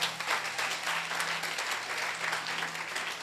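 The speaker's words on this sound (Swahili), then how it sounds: "Mpigie Bwana Yesu makofi." A church congregation claps together during a live sermon, a rhythmic wash of applause at moderate volume with a faint hum underneath.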